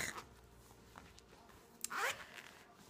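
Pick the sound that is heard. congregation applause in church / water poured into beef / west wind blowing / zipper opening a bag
zipper opening a bag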